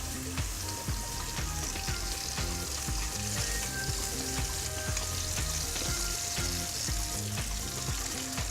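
Gnocchi sizzle and fry in a hot pan, a dense, bright crackling hiss that runs throughout with steady spits and pops, close and fairly loud, with no voices over it.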